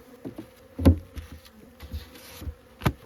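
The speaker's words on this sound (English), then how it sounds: "now we are going to leave this extremely angry hive" An angry honeybee hive in winter buzzes steadily close by, with a few louder bursts as individual bees fly near, and no talking.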